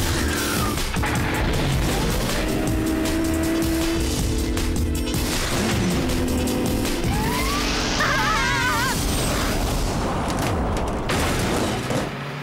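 A cartoon car switches into jet-engine turbo mode and speeds off with crashing, booming effects and a whooshing roar. Rapid wavering electronic tones cut in partway through, and the dense action sound stays loud throughout.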